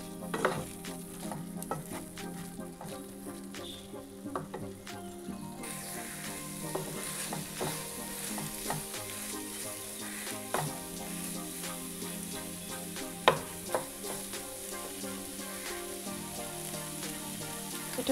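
Pointed gourd and paneer masala stir-fried in a pan gives a steady, moderate sizzle, with scattered clicks and scrapes of stirring running through the whole stretch and no voices.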